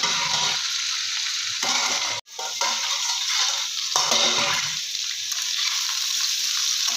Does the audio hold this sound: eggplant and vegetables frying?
yes